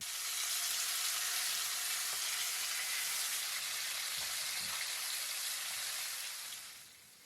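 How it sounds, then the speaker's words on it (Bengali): Rupchanda pomfret fish laid one by one into hot oil in a pan give a steady, dense, close frying sizzle that holds evenly and then fades near the end, with no voices. "রান্নার শুরুতে আমি রূপচাঁদা মাছ হালকা করে ভেজে নিচ্ছি এজন্য তেল গরম হয়ে আসলে আমি একে একে সবগুলো রূপচাঁদা মাছ দিয়ে দিচ্ছি"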